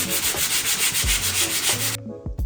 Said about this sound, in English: Okay, these are dry enough for me to sand.